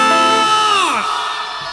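A dangdut concert crowd cheers and whoops loudly, with one rising-then-falling shout standing out over the steady roar of the audience for under two seconds.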